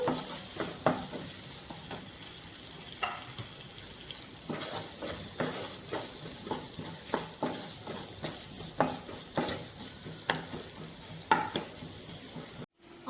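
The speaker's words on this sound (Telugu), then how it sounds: "ఆనియన్స్ అయితే బ్రౌన్ కలర్ వచ్చేంత వరకు అయితే వేయించుకోవాలి మనము." Onions fry in a pan until browning, sizzling steadily with intermittent scrapes and stirring clicks throughout, close and alone with no talking.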